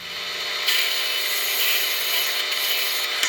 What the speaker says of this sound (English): You drill it out, of course.